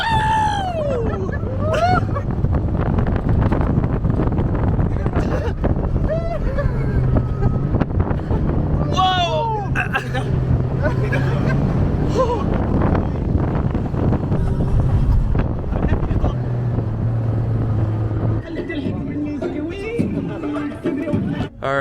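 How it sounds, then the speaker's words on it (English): A car with slightly deflated tyres drives fast over desert sand dunes, its engine roaring and revving continuously as wind buffets the microphone, with voices calling out over the noise. "Now our tires are slightly deflated and we go to the desert."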